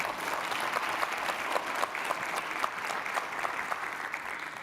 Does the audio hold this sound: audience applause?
yes